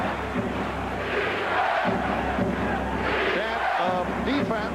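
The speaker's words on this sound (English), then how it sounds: "Chant of defense from this capacity crowd." A capacity crowd at Madison Square Garden chants for defense during a tied 1995 Bulls–Knicks NBA game, a loud, continuous roar of massed voices with rhythmic swells, heard under an announcer's play-by-play.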